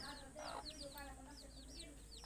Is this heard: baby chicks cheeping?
yes